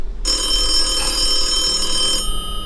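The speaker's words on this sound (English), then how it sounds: "I'll get the phone." Telephone ringing loudly nearby, one sustained electronic bell-like ring that starts abruptly and cuts off after about two seconds.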